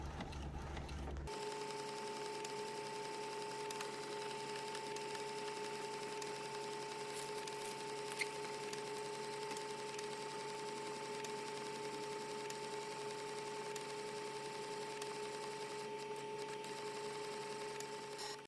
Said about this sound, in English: when you're printing with glossy paper, it usually takes a little longer when you're on the photo glossy settings